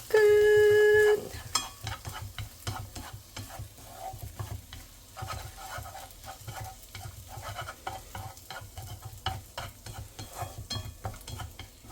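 Glass noodles for japchae are tossed and stirred in a pan with sesame oil, giving a steady soft sizzle under repeated scraping and stirring strokes after a brief tone at the start, with no talking.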